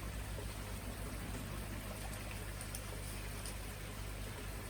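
Water siphoned through thin airline tubing trickles steadily into a koi pond, a continuous even rush and splash with a low rumble beneath, unbroken from start to finish.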